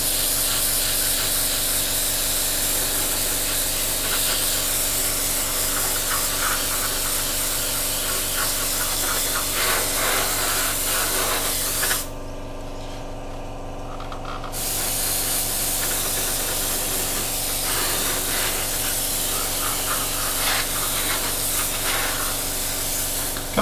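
Airbrush spray priming a Tamiya 1/35 M1A1 Abrams scale model, a loud, steady hiss running nearly continuously, broken once by a few seconds of quieter compressor hum before spraying resumes.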